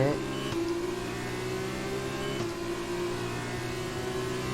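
An F1 race car accelerates in the F1 2020 video game, a loud steady engine whine with a couple of brief gear-shift breaks, holding high revs throughout.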